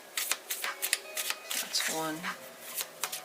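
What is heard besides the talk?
shuffling tarot cards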